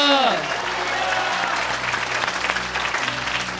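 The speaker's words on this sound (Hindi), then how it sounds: "एक बार मेरे यीशु के लिए जोरदार ताली दो" A church congregation applauds loudly during a sermon, a full, sustained roar of clapping that follows a brief voice at the very start and continues without letup.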